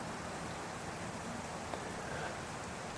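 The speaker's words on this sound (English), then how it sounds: "you hear more wind noise than you do rain dropping sounds." Steady rain falls outdoors and blends with wind into a dense, even hiss that stays constant throughout, with no distinct drops standing out.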